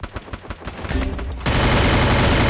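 Rapid gunfire in the video game Free Fire: a run of quick close shots, then a dense, loud sustained burst of automatic fire that fills the rest of the moment.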